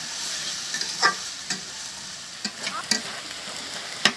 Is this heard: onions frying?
yes